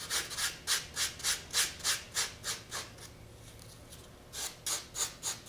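Soft tooling foam being sanded by hand, a steady series of rhythmic rasping strokes, close and fairly quiet, with a short pause before the strokes resume.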